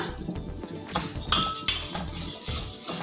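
Metal pan and utensil clatter as broken wheat goes into a spoonful of oil, irregular clinks and scrapes sounding close and fairly loud with no talking.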